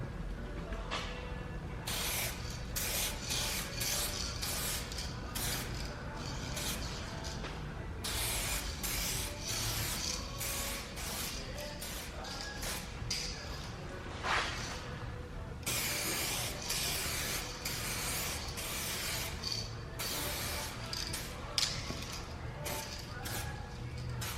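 An aerosol can sprays clear coat over VHT Nightshade tint on tail lights in a series of short and longer hissing bursts with brief gaps between them, close to the microphone and fairly quiet overall.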